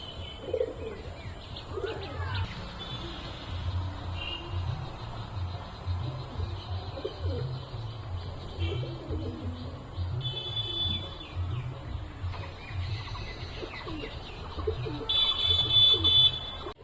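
A pair of Star Kalanka pigeons in a loft give repeated low, rhythmic cooing, close and fairly quiet, with faint chirps and a brief higher tone in the background.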